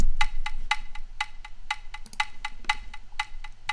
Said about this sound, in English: The next instrument is this percussion sound.